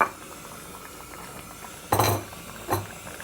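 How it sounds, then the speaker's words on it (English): Garlic dropped into a pot of simmering tomato and fig chutney, a low bubbling background broken by two short clattering bursts of ingredients and a utensil hitting the pot, close by, no talking. "Garlic goes in."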